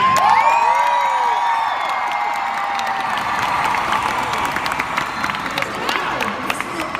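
A live crowd at the MyHits Awards 2018 pop music show cheers and whoops, with high shouts and whistles over a dense, sustained roar that stays loud and even across several seconds.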